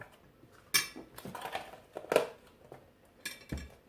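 A spoon scrapes and taps against a gratin baking dish while spreading butter, producing a few quiet, irregular clinks and scrapes up close.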